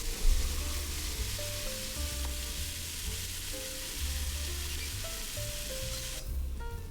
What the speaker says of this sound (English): Keep stirring and mixing until all of it is well incorporated. Stir fry it for another 2 to 3 minutes.